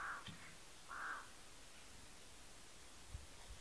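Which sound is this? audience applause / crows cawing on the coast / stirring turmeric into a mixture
crows cawing on the coast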